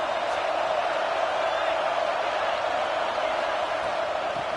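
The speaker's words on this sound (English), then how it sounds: "Listen to the crowd energy here in the early going." Stadium crowd at an SEC college football game, a dense, constant roar of many voices with faint cheers, loud and unbroken.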